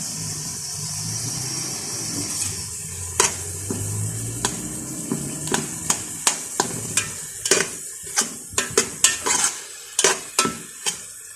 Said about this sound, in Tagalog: Nagluluto. Ayan. Ampalaya, 3 piraso.